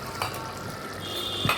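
Chicken kosha being cooked in a pan, a steady low sizzle with a couple of brief stirring scrapes, close and fairly quiet, with no talk.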